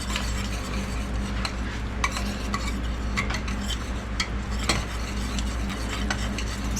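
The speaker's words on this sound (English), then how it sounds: "And stir, stir, stir." Grape jelly is stirred in a pot with a spoon, giving repeated clicking scrapes against the sides over a low bubbling simmer, close and continuous.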